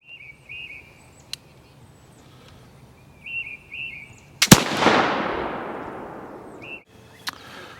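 A Pedersoli Kentucky black powder pistol fires once at an outdoor range, a sharp loud crack with a long rolling echo that fades over about two seconds, with birds chirping faintly before and after.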